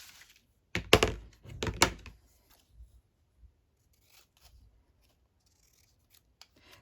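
Scissors snipping through leftover paper scraps during a mixed-media masterboard craft session, two close, crisp bursts of cutting near the start followed by a few faint taps and rustles on the table.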